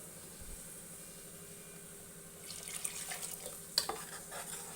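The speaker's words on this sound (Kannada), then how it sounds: "ಮಿಕ್ಸಿ ಜಾರ್ಗೆ ಇನ್ನು ಸ್ವಲ್ಪ ನೀರು ಹಾಕ್ಬಿಟ್ಟು ಅದನ್ನು ಸೇರಿಸ್ಕೊಳ್ಳೋಣ" Water pours into a mixer jar, starting partway through as a soft, trickling splash that builds briefly, quiet and close in a kitchen with no talking.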